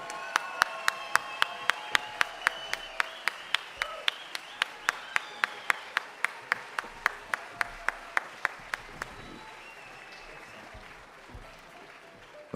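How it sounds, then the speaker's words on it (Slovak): A crowd at a folklore festival claps for the boys from TCO in a rhythmic, unison beat of sharp, evenly spaced claps. It stops after about nine seconds, leaving scattered murmurs and faint noise. "Poprosím obrovský potlesk pre chlapcov z TCO."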